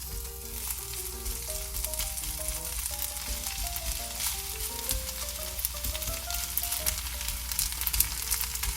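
Steady crackling sizzle of kimchi rice pressed thin in an oiled pan over medium heat, continuous and fairly quiet, with a soft musical tune playing underneath.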